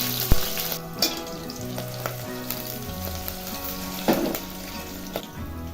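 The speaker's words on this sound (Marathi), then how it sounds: "तेल गरम झालं की लसूण घालायचं आहे मिरच्या आता मोठ्या मोठ्या करून घेतल्या" Garlic and chopped green chillies fry in hot oil for a leafy pumpkin-leaf vegetable dish, a close, steady sizzle with scattered pops and crackles and a faint stirring clink.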